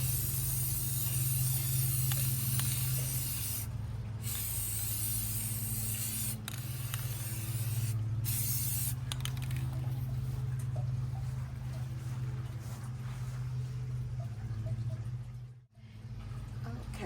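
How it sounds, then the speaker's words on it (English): Rust-Oleum spray paint hissing steadily from an aerosol can onto outdoor pots, a continuous close spray with brief pauses between bursts and no talking. "So I'm just gonna spray paint these real quick."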